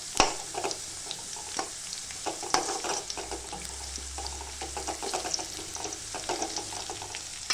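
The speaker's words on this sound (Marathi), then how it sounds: "कांदा लालसर रंग येऊपर्यंत परतून घेतला आपण" Onion frying in a pan for a matki bhaji, browned to a reddish color and stirred, with a dense constant sizzle and crackle and irregular utensil scrapes, close and steady throughout.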